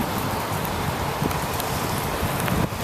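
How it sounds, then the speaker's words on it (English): Rain falls during a cold bicycle commute from Fremont to downtown, making a constant close hiss with scattered patter of drops and no one speaking. "commute in the rain today"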